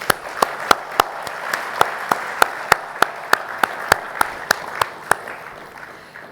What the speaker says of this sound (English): please, will you just join me in giving them an applause for their sponsorship?